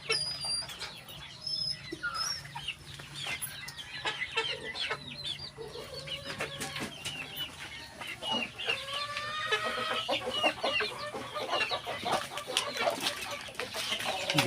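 Pet chickens kept in a small backyard area cluck and call steadily throughout, with a rooster-like crow and varied fowl vocalizations close by, a dog faintly barking, and no speech.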